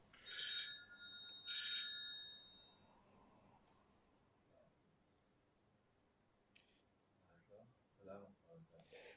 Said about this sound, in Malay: Tolong jawab telefon.